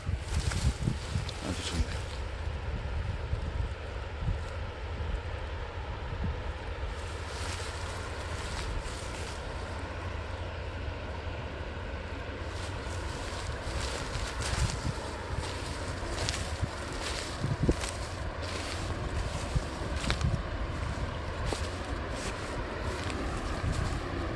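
Continuous stream water flowing past stepping stones at Auraji, rushing steadily in the background, with scattered splashes and faint wind rumble throughout.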